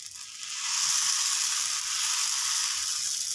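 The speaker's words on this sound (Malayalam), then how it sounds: "ഇനിയും ദോശമാവ് ഒഴിച്ചു കൊടുക്കുക." Dosa batter hisses and sizzles on a hot pan, a steady bright crackle that swells after the first half second and holds evenly near and alone.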